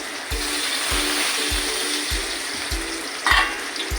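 Cumin and onion frying in a pan, a continuous sizzle with a regular scraping of the spatula under a second apart, close and steady throughout.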